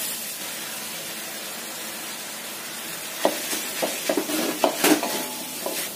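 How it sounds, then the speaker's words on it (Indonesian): Tofu, carrot and spring onion stir-fried together in a pan, a steady low sizzle with clear scraping and clattering strokes of a spatula bunched into the last three seconds. "Tumis sampai matang"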